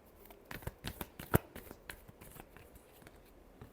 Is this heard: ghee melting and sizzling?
no